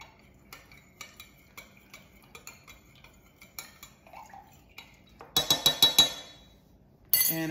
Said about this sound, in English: Stir, stir, stir.